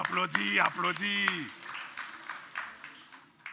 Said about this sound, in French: Oh, applaudis.